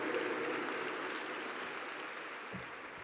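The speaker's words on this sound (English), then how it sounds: "And so give yourselves a round of applause for being here and being an example of hope." An audience at the opening night of the Beyond the Bars conference applauds in a steady, broad wash of clapping that fades slightly toward the end.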